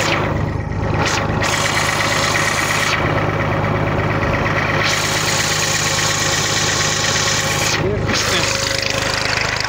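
An old tractor, about fourteen years old, idles with a loud, steady low rumble and rattle that runs unbroken the whole time, close by in an outdoor setting.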